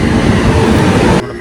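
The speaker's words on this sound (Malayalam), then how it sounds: "നമ്മൾ ട്രെയിൻ ഇതാ വന്നുകൊണ്ടിരിക്കുന്നുണ്ടല്ലേ" A Kochuveli–Korba superfast express passenger train pulls into a station, its loud, close, steady rumble and rattle rolling on for over a second before dropping away abruptly.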